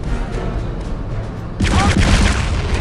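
A tank blown apart in Return to Castle Wolfenstein: a loud, sudden blast erupts halfway through, followed by rumbling debris and crackling that stays heavy to the end, after quieter game ambience.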